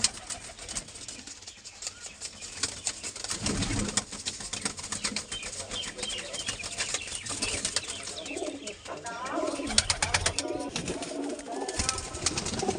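Madrasi competition pigeons kept in pairs for sale, cooing and flapping their wings at close range through a dense, continuous flock background, with occasional voices.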